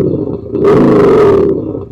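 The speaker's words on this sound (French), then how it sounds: "Là, vous allez pouvoir modifier le régime moteur." A car's active sound system plays a synthetic engine rev: a steady low hum swells into a loud, rough roar for under a second, then settles back down. No one speaks.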